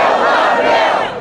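A large crowd of protesters against a health care bill shouts and roars in a dense, sustained wall of voices, loud and close, with no single voice standing out.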